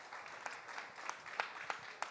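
Faint, distant audience clapping at a wellness conference panel on sex and psychedelics, a sparse scattering of claps with a few sharper individual hits standing out over a quiet room.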